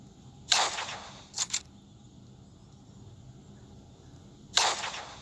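Hunting gunfire in the Offroad Outlaws video game, three sharp cracks: one single shot, a quick double shot, then a last shot, heard against quiet ambient background.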